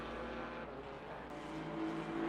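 Porsche GT4 race car engine at Kyalami circuit, a steady loud roar with a sustained drone, rising pitch toward the end as the car powers out of a corner.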